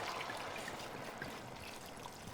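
White wine is poured over seafood in a pan, a steady, soft liquid stream and trickle that runs continuously at a low level with no speech over it.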